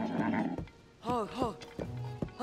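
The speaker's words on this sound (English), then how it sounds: "he's Ganon's horse, it's probably going to take a while to really bond with the horse of my enemy" Ganon's horse from The Legend of Zelda: Tears of the Kingdom gives two wavering whinnies close by, with soft hoof clops and someone talking around the calls.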